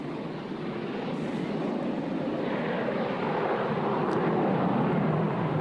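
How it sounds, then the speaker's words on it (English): A Royal Navy Sea Harrier FA-2 jet from 899 Squadron flies at the 2003 Royal International Air Tattoo, its broad, roaring engine noise steady and building slightly as it passes at a distance. "This is the Sea Harrier FA-2 from number 899 Squadron at Royal Naval Air Station Yeovilton."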